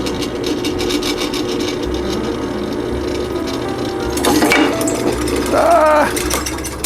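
A power drill with a 1/4 inch bit whirs steadily through a metal bicycle tube, its grinding whine rising and catching near the end, with a voice briefly audible.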